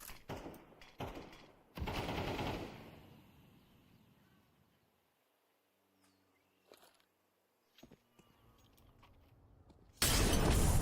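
Counter-Strike HE grenades detonate in a competitive match, two loud broadband blasts early on followed by debris and fading rumble, a quiet stretch with small clicks, then another sharp burst at the end.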